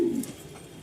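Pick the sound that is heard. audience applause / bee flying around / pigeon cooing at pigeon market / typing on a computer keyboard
pigeon cooing at pigeon market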